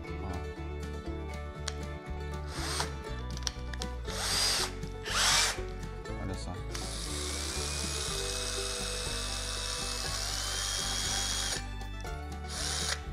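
Power drill fitted with a Milescraft extension driving into scrap wood, steady mechanical whine in several bursts with brief pauses between, close and fairly loud with no talking.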